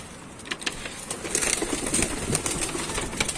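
Pigeons leave their loft with a flurry of flapping wings and soft cooing, close by and moderately loud, with a faint rumble of traffic underneath.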